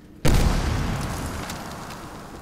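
A grenade explodes in the game Medal of Honor: Warfighter, one sudden loud boom after a brief quiet moment, followed by a long rumbling decay of debris and echo.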